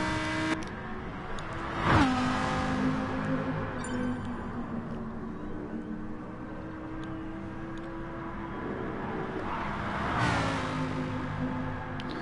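A Lamborghini Huracan and other race cars at Dragon Trail Seaside in Gran Turismo Sport roar with steady, whining engine tones, with a sharp pitch sweep early and another swelling pass near the end.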